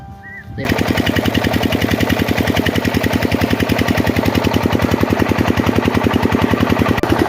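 A loud, close engine kicks in after a brief quiet start and runs steadily, with a fast, even, hammering pulse that continues to the end.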